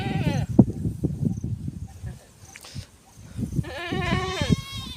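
A goat bleats up close, with a wavering cry at the start and a longer, louder bleat near the end, over shuffling and rustling nearby.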